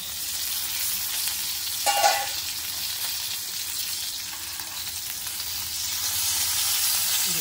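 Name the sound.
stuffed chillies sizzling in pan, being flipped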